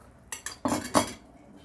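A metal lid is set onto a pan of eggplant breakfast cooking on the stove, giving a few quick clinks and clatters of metal on metal, close and clear, with quiet around them.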